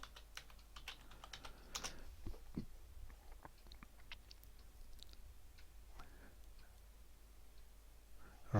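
Irregular clicks of someone typing on a computer keyboard while signing in to a website admin page, soft close keystrokes in short bursts with pauses, no speech.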